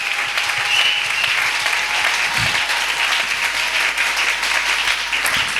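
A church congregation applauds steadily, with dense, even clapping from many hands that fills the whole stretch without pause.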